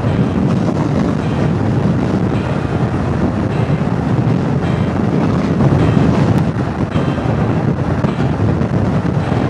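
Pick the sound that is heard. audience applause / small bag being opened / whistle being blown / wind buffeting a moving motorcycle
wind buffeting a moving motorcycle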